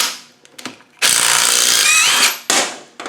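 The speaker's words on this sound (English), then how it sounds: "Next we're going to take off this nut." A power tool rattles loose a 19mm nut on a Land Rover Adwest steering box, sounding in one loud, close, sustained burst of about a second and a half, with short tool clicks before and after.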